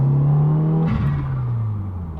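Subaru WRX STI fitted with a cat-back exhaust revs in first gear, a loud steady engine drone that surges and dips briefly near the middle before settling, with no talking.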